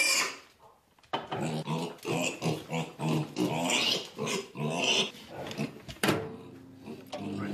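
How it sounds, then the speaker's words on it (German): A dog in a wolf pack setting growls and grumbles in a run of low, rough bursts at close range, broken by short pauses and a sharp thud near the end. "Bist ein kluger Hund."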